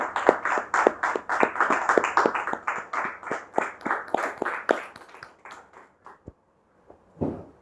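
A studio audience on a talk show claps to welcome a guest, a sparse, fairly close round of individual handclaps that gradually thins out and stops, then one brief final sound, no speech.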